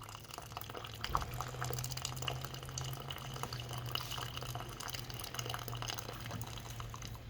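Water dispenses from an espresso machine's thermal reserve in a soft continuous trickle and spatter, with a low steady hum running underneath, quiet and close.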